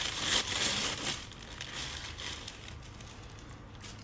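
A sticker is peeled off a belt case with a crinkly, papery tearing rasp that is loudest at the start and then fades into a softer, continuous rustle.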